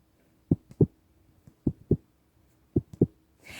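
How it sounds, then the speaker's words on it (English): A foley heartbeat is made by pinching fabric tightly, giving three evenly spaced double thumps, close and dull, in a quiet room, followed by a short rustle at the end. "pinch the material really tight, and you can create a heartbeat"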